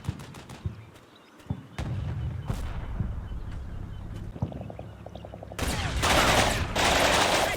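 Artillery fire in the Cold War tank game Combat Mission Cold War: a run of sharp booming shots, then a dense burst of loud, sustained gunfire and explosions near the end.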